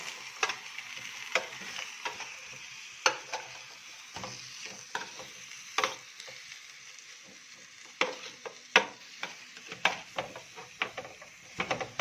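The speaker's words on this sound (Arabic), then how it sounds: "بعد ما تقطعي الفلفل هتقلبيه، هتقلبيهم بقى مع بعض" Chopped peppers are stirred in a pan for a chicken and potato tray bake, a spoon giving irregular scraping clicks and taps over a soft, steady sizzle, close by and fairly quiet, with no talking.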